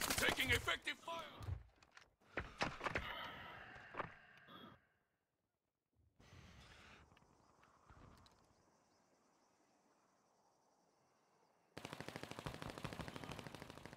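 Bursts of automatic gunfire from Call of Duty: Modern Warfare II, loud rapid volleys at the start, a quiet stretch of low ambience, then a sustained fast-rattling burst near the end.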